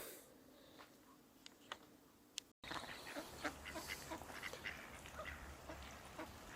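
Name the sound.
ducks on the river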